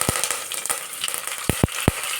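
Curry leaves crackle in hot oil with crushed garlic as tempering for a greens curry, a steady close sizzle punctuated by several sharp pops and thumps toward the end, no speech.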